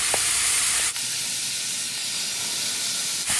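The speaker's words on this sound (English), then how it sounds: "we'll just give her a good nice sear till she's good and golden brown there" Chicken searing in a hot pan for adobo, a steady loud hiss and sizzle that runs evenly throughout with no talking.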